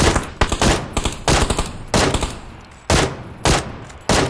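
Gunfire in PUBG rings out as a series of sharp, loud shots in irregular bursts and single cracks, some spaced about half a second apart, close and with no talking.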